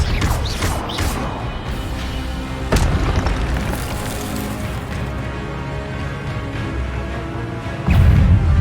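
Expelliarmus spell impacts in the game Hogwarts Legacy land as loud, heavy booms with crashing bursts, one sharp hit early, another near the middle and a deep thump at the end, over a dense rumbling game soundscape.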